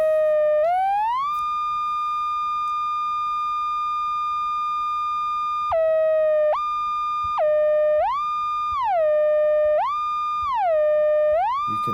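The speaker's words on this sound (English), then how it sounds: "You can hear that the portamento is getting faster and slower on a CV." A Buchla Music Easel simulator in Drambo plays one pure, sustained synth tone through a low pass gate. Its pitch glides up and down with portamento, starting as a long steady note and then sliding repeatedly between two pitches.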